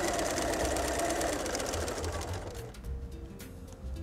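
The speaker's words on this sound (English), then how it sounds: "by sewing through these snowball blocks from corner to corner" A sewing machine chain-pieces snowball quilt blocks corner to corner, running with a fast, steady mechanical whir that slows and thins out near the end, with no talk over it.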